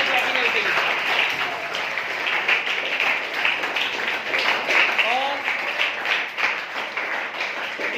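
Audience at a Seerat un Nabi religious gathering applauding, a dense continuous wash of clapping lasting throughout with voices faintly mixed in.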